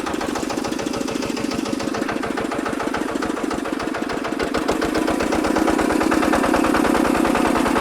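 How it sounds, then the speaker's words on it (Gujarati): A small mini tractor engine runs steadily after starting, with an even, rapid chugging pulse close by that grows slightly louder toward the end. "ટ્રેક્ટર અત્યારે આપણું ચાલુ થઈ ગયું છે"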